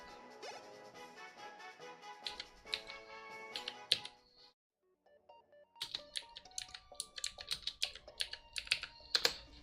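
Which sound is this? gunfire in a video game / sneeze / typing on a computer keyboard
typing on a computer keyboard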